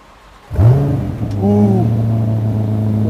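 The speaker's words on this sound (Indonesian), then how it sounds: "Wah, ini cold start ya." A V8 car engine cranks from cold and fires up at once, settling into a smooth, steady low rumble with a brief rise in revs, heard up close.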